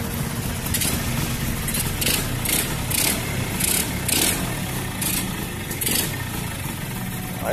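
A Suzuki TRS two-stroke motorcycle engine idling just after startup following a full carburetor rebuild, running close, loud and continuous with a steady buzzing rumble and a few brief rises in pitch.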